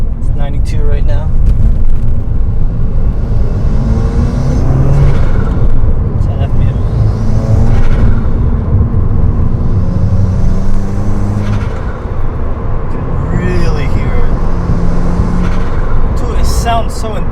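A Subaru WRX with a turbo, an Invidia Q300 exhaust and a Boomba blow-off valve gives a loud, continuous exhaust drone and several short whooshing blow-off bursts, with someone talking over much of it.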